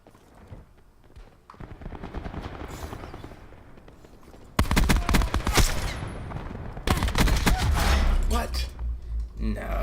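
SMG gunfire in Call of Duty Black Ops 4 starts as faint distant crackle, then breaks into two loud sustained automatic bursts up close over the last half.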